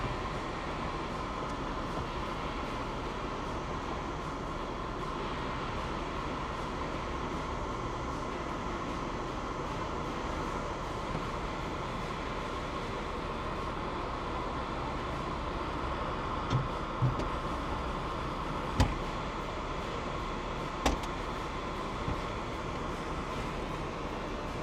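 The convertible top of a Mercedes W124 rising: a steady, even mechanical hum runs for the whole stretch, with a few sharp clicks near the end.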